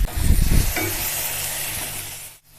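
Onion, tomato and masala sizzle and fry in a pan for a stuffed omelette, with a brief stirring burst at the start, then a steady close hiss that cuts off near the end.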